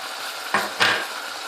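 Two quick scraping stirs sound over a soft sizzle as chicken fries in a pan with green chilli paste for white chicken karahi, brief and close, with no talking.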